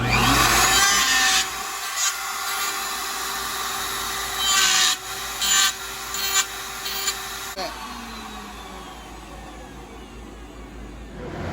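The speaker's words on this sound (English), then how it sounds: "we're going to go ahead and router these" A router shapes knife handle scales, its loud, steady whine and cutting roar running throughout, rising in short surges as the bit bites into the material.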